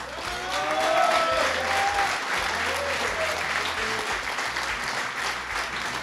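Steady, dense audience applause at a motoring show's event, loud and continuous with a few voices calling out beneath the clapping.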